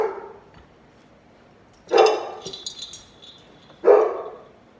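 A dog barks twice, a couple of seconds apart, from close by, with quiet rustling in between.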